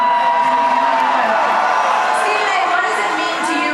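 A large crowd cheers and shouts at Norfolk State University during an ESPN First Take HBCU tour stop, a loud, steady roar with whoops, and a voice speaking over it.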